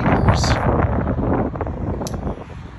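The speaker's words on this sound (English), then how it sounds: "It's too windy here." Steady wind buffets the microphone, a continuous low rumbling roar with no other clear sounds.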